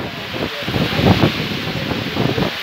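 Strong storm wind gusts through swaying trees and plants in heavy rain, a broad rushing roar that swells in waves, loud and close, with no talk.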